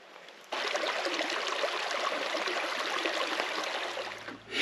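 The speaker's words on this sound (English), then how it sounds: "sat here listening to the water sort of burbling, you know, past us" A stream burbles steadily past, a continuous close rush of flowing water that begins abruptly after a brief quiet moment and holds at an even level.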